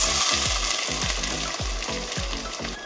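Onions frying in groundnut oil in a hot pan give a loud, dense, continuous sizzle, with a spatula stirring them in a regular rhythm of strokes close at hand and no speech.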